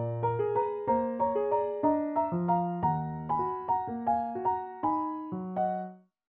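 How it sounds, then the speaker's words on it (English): A passage from Chopin's Nocturne Op. 27 No. 2, played as a polyrhythm: a low flowing figure of evenly repeated notes against a separate upper line, steady and quiet, ending with a final fading note. "A good example is in Chopin Nocturne's Opus 27,"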